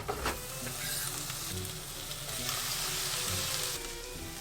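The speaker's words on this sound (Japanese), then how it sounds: "フライパンにサラダ油を熱して具材を炒めます。" Ingredients stir-frying in hot salad oil in a frying pan, a steady close sizzle with soft scraping and stirring strokes throughout, no voices.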